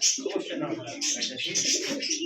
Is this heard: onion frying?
no